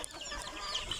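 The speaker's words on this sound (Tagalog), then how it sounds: "Ang dami kong manok." Chickens cluck softly nearby in a brief, faint scatter of calls with no talking.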